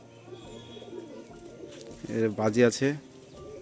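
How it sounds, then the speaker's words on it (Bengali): Pigeons, one with red and green colouring and feathered feet, give a short burst of throaty cooing toward the end, rising out of quiet background murmur with people talking nearby. "এই দুটো কি পায়রা?"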